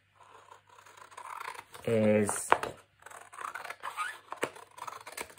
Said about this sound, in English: I'm just using my scissors because sometimes your printer might not print straight